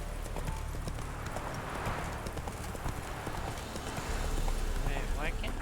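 Roach, the horse in The Witcher 3, trots in a steady rapid clip-clop of hooves over a continuous game soundscape, with a voice speaking briefly.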